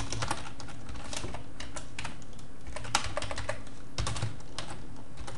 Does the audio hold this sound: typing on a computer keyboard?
yes